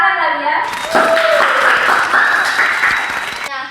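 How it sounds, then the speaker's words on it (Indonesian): A podcast audience in Indonesia claps, a burst of applause rising after a short spoken lead-in and carrying on steadily, with voices talking over it before it cuts off sharply. "Kasih tepuk tangan kali ya"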